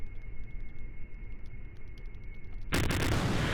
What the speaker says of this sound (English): the giant ship exploded